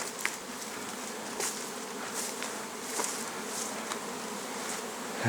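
A dense swarm of bees around overgrown hives in an apiary hums steadily, with individual insects buzzing past nearby over the constant droning background.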